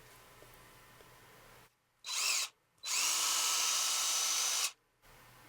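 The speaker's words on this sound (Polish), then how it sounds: "Kręcimy taki wkręt, taki typowy do drewna." Parkside PTBSA 20-Li A1 20 V cordless drywall screwdriver driving a typical wood screw: a short whirring burst, a pause, then a longer steady high-pitched whine, close and loud, with no talking.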